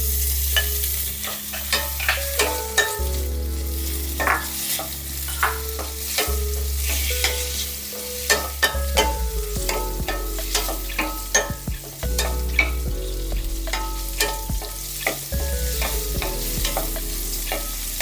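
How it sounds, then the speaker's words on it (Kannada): Cubes of paneer frying in butter in a pan, with a steady sizzle under repeated sharp scrapes and taps of a spatula stirring, close and continuous throughout. "ಸೊ ಇದಕ್ಕೆ ನಾನಿಲ್ಲಿ ಬಟರ್ ಯೂಸ್ ಮಾಡ್ತಿದ್ದೀನಿ ಫ್ರೈ ಮಾಡ್ಕೊಳ್ಳೋದಕ್ಕೆ."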